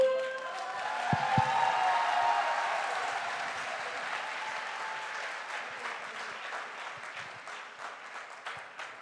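Audience applause rings out at a direct selling Diamond promotion event, a dense, steady patter of many hands that starts strong and gradually thins over several seconds, with a few shouts early on.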